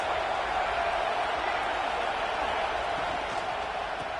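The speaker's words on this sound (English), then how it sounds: "This crowd trying to make life miserable for this offense." In an American football video game, a stadium crowd gives off a dense, steady roar that stays loud and unbroken for the whole stretch.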